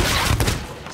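Gunfire in Sea of Thieves, a dense, loud burst of overlapping shots filling the whole second with no clear gaps, close and harsh.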